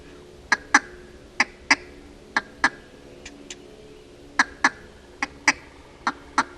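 Duck call imitating a contented hen mallard, blown as short, sharp quacks in loose pairs and clusters with brief gaps between, close and crisp against a quiet background.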